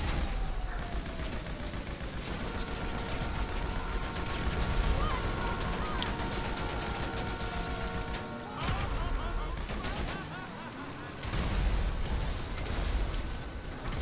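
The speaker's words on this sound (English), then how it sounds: "Fireworks" Repeated booming bursts and crackling pops from fireworks in a video game, loud and continuous, with brief gaps.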